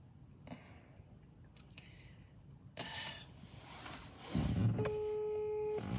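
Phone call declined tone, a steady electronic beep that holds over the last second after some brief handling and rustling noises, with no talk.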